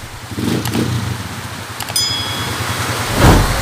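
Heavy rain pours steadily in Sta. Ignacia, Tarlac, a dense, close hiss that swells louder near the end, with the low, rough idle of a noisy Honda TMX155 motorcycle engine rumbling underneath.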